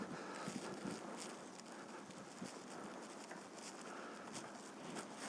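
Stormy north-east wind blowing through the seaside town of Vityazevo during a hurricane, a steady, faint rushing roar with scattered light pattering and clattering throughout.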